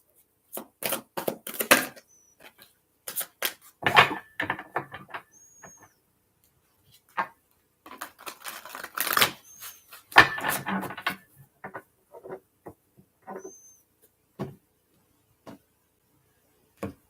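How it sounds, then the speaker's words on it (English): A Psychic Tarot card deck is shuffled by hand in crisp, papery bursts of quick snapping and riffling, separated by short quiet pauses, close and soft. "Give it a few good shuffles."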